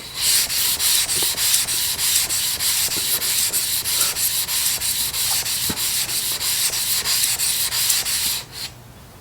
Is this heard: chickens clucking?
no